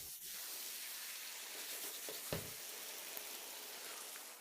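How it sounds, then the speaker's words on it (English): Tomato sauce hitting a hot pan of sautéed vegetables for shakshuka, giving a steady broad hiss and sizzle that holds evenly throughout, with a brief louder spatter midway. "Now we'll add the tomato sauce."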